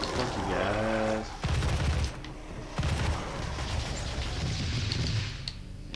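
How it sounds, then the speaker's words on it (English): Rapid bursts of plasma rifle fire in Doom amid dense game combat noise, loud and continuous with booming impacts and mechanical clatter, a voice briefly speaking early on. "The fire rate on this weapon is awesome."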